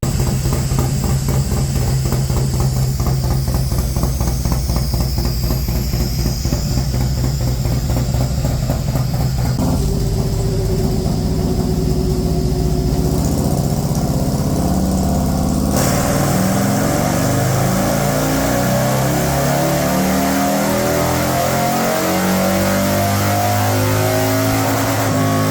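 Harley-Davidson Milwaukee-Eight 114ci engine in a Road Glide, fitted with an S&S 475 cam and Feuling cam chest upgrade, starting up and running with loud, steady rumble and revving throughout, no talk.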